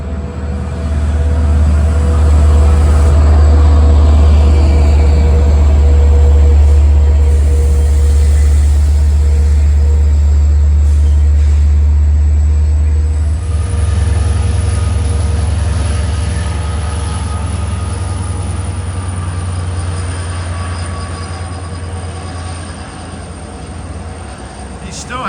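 A Long Island Rail Road train bound for Oyster Bay rolls slowly through the Garden City area, producing a loud, steady, close rumble that gradually eases. A high whine joins partway through.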